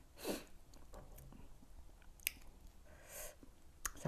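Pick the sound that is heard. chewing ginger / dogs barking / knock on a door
chewing ginger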